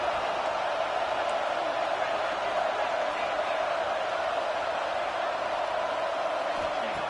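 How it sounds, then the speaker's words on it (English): A college football stadium crowd roars steadily throughout to rally the defense for a red zone stop, a dense, sustained wall of cheering with no breaks or quiet moments. "And here comes the noise. This crowd is trying to inspire this defense to make a big red zone stop."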